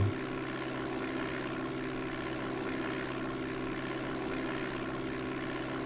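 A propeller aircraft engine drones steadily as the plane flies low over a grass runway in DOS Flight Simulator 5.1, a continuous, even hum that holds at a constant loudness throughout.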